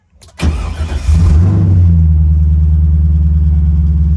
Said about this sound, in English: So now let's give it a shot.